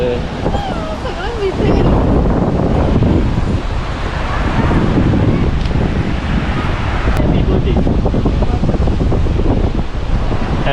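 Sea surf rolling onto a beach during a birthday outing, a steady loud wash of waves and wind buffeting the microphone throughout, with voices chatting over it.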